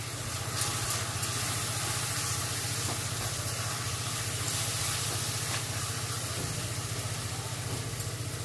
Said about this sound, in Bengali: একটুখানি জল দিয়ে দিলাম যাতে মশলাটা পুড়ে না যায়।